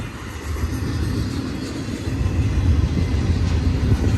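A BNSF freight train stands with helper locomotives at the Cajon Summit tie-down, a steady, loud, low rumble of idling diesel engines that slowly swells, with no voices.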